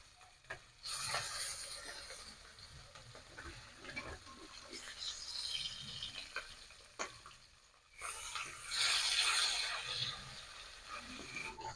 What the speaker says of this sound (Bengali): মাছটা ভাজতে ভাজতে আমি নিম পাতাগুলো ছাড়িয়ে নেবো